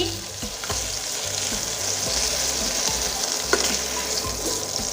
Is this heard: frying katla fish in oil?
yes